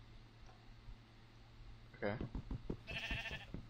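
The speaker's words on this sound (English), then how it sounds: "I hear a sheep." A Minecraft sheep gives a faint bleat under quiet cave ambience, then someone speaks briefly, with a wavering bleat-like tone rising near the end beside soft thuds.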